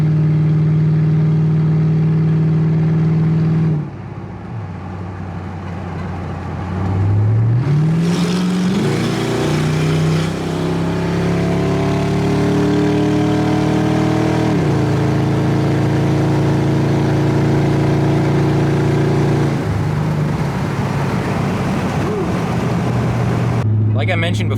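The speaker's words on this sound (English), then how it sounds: "So the exhaust note is not good. It's really loud, doesn't sound good." Ford Crown Victoria with a Marty tune, secondary cat delete and H-pipe exhaust, idling loudly, then revving up and holding high, with engine pitch rising and falling through repeated revs.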